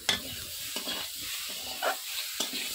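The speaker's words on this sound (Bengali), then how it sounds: "এবার দিয়ে দেব ধুয়ে রাখা মূলো আর আলু, দিয়ে দেব কেটে রাখা টমেটো," Radish, potato and chopped tomato dropped into frying spices for a hilsa fish curry with eggplant, giving a soft sizzle and a few close stirring scrapes over a short stretch.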